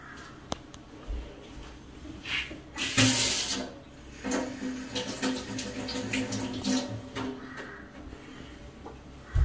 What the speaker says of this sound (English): And tomatoes that got to wash first.